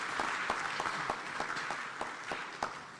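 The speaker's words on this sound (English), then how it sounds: "another round of applause for the Right Honorable Speaker" Audience at a parliamentary conference applauding, a full steady wash of clapping with sharper individual claps popping through for a few seconds.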